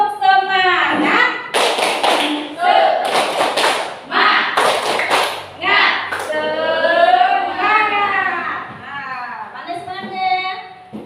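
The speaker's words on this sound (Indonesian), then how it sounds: "Jadi tepuk semangat." A school class stands and does a rhythmic group clapping routine, with sharp bursts of claps and taps alternating with children chanting together in a classroom.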